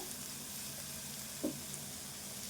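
Okra frying in a pan gives a steady, close sizzle throughout, with one brief clatter near the middle.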